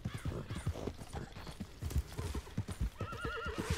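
In the video game Red Dead Redemption 2, horse hooves clip-clop in a quick rhythm before a horse lets out a loud, wavering neigh near the end.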